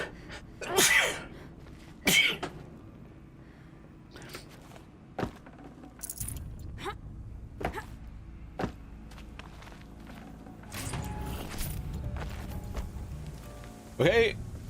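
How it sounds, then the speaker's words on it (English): A person sneezes loudly at close range with a sharp burst, then sneezes again shortly after, amid scattered clicks, shuffles and other small room noises from a gaming session. "I have to sneeze."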